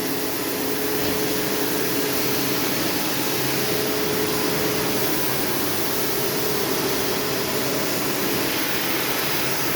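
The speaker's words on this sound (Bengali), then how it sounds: "এটা হচ্ছে ফিলিপস মেশিন" A Philips knitting machine running in a knitting workshop, feeding three yarns, two polyester and one cotton, gives a steady, dense mechanical whir and hum that holds unbroken and fairly close throughout, with no voices.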